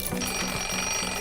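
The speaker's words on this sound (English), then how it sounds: "We need to sound the alarm quickly." In an animated Moomin scene an alarm rings in a steady repeating rhythm of short electronic bursts, clear and fairly loud with no voices over it.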